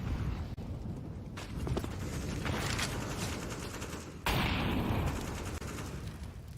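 Counter-Strike match on the Ancient map, with dense, continuous gunfire and grenade blasts forming a loud wall of noise that jumps sharply louder partway through.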